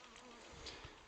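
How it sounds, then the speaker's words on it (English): Bees buzzing softly and steadily in clementine blossom in a garden, a faint continuous insect hum against quiet outdoor background, with no talking. "And the bees are quite happy in there."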